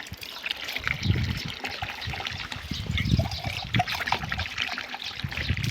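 Water streams and splashes steadily into a metal pot, a continuous trickling gush with no talking.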